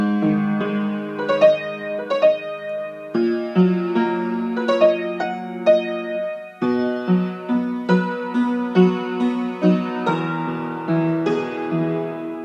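A piano plays a slow melody over low bass notes, each note struck clearly and left to ring, with no voices.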